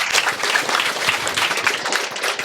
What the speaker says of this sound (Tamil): நெடுஞ்செழியன் சாருக்கு ஒரு மிகப்பெரிய கைத்தட்டல்கள் கொடுக்கலாம்